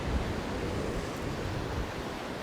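Waves wash against the seawall in Brigantine, New Jersey, a steady close roar of surf and rushing water with wind buffeting, no voices.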